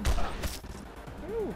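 Video game gunfire during a rooftop fight, a quick burst of a few sharp shots at the start, followed by a rising and falling tone, with a voice heard faintly underneath.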